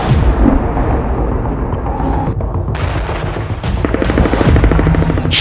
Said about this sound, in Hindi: खान यूनिस पर खूनी हवाई हमले।